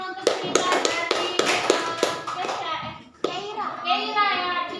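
Children in a classroom clap in a quick run of sharp hand taps for a classmate's story, close and uneven, with children's voices chattering over and after the clapping.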